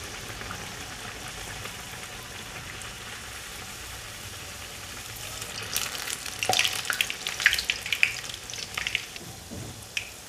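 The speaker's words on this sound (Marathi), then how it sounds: "हे बघा तेल छान तापलं गेलेलं आहे. तर आपल्याला ह्यामध्ये अलगद असे वडे करून घ्यायचे आहेत." Malvani mutton vade, made from bhakri flour dough, dropped into hot oil: a steady sizzling hiss that swells into louder crackling and bubbling as the fried bread cooks, close and without talk.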